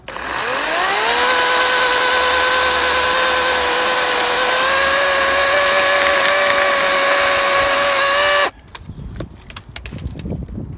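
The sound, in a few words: Toro 51138T brushless cordless electric chainsaw cutting wood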